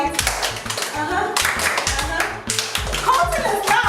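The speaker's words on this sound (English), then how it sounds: "Can we do Becca's clap again?" Children and presenters on a kids' TV show clap together in a rhythmic group clap, sharp repeated hand claps in a steady pattern, close and loud, with some voices mixed in.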